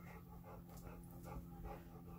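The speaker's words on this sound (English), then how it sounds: "Dog is here and is panting." Dog panting beside someone hand-sewing appliqué pieces, a steady run of quick, soft breaths close by with a low background hum and no talk.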